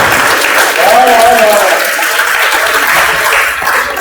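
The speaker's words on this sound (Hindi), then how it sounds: "तालियां बंदे मत करो।" Loud, sustained audience applause at a comedy and music show for Bihar Day in Patna, dense steady clapping filling the whole stretch with a faint voice briefly audible above it.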